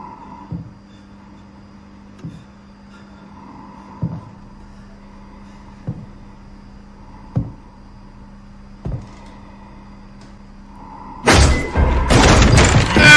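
A fire hydrant strikes a head in the 2022 horror film Halloween Ends: six dull, heavy thuds land at a slow, even pace over a low hum, then a sudden loud, harsh crash of noise bursts in and continues.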